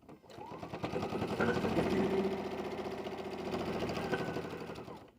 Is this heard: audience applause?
no